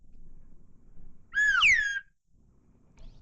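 A slide whistle gives a short, bright gliding note that swoops and bends for about half a second, loud against quiet, low background noise.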